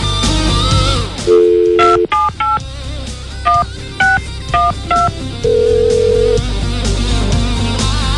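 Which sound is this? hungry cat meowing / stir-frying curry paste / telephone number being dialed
telephone number being dialed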